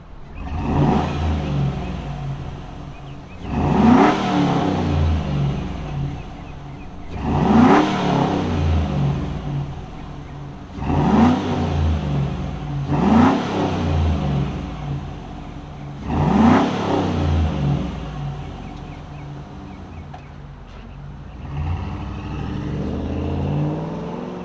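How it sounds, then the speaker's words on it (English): A 2004 Chevrolet SSR's V8 engine fires up and is revved repeatedly, six swelling roars rising and falling in a steady rhythm between a deep rumbling idle, close and loud. "we got the V8, let's fire it up and hear its rumble"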